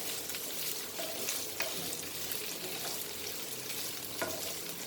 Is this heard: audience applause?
no